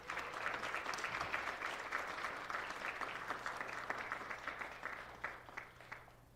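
Audience applause at a student speaking event, a steady wash of many hands clapping that fills the whole stretch at moderate distance and tapers slightly near the end.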